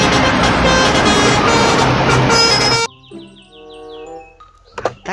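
Toy double-decker bus playing a loud, dense electronic engine and horn effect that cuts off abruptly, followed by quieter tonal beeping jingle sounds.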